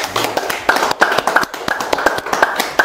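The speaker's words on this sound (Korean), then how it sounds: "박수로 모시겠습니다." A room of listeners at a Saturday guest lecture claps loudly and close to welcome the speaker, a dense, uneven patter of sharp handclaps that runs without a break and with no talking.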